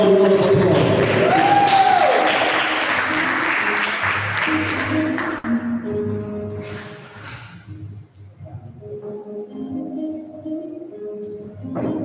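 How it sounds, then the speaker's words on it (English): Applause from an audience at a high school prize giving ceremony, a dense burst of clapping that fills the first few seconds and then thins and fades under quieter background sound. "Show your appreciation by the loud round of applause."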